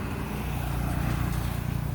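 An old Toyota Corolla passes nearby on a humid day, giving a brief, moderate engine and tire rumble that swells slightly in the middle before easing, without speech.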